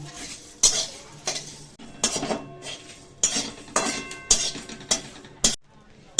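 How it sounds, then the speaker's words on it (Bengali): Whole cumin, coriander, fennel, a dried chilli and a bay leaf dry-roasting in a pan, with repeated sharp scraping and clinking of a utensil against the metal and a faint crackle between strokes, close by and with no talk. "মশলাটাকে আমরা শুকনো খোলায় ভেজে নিচ্ছি।"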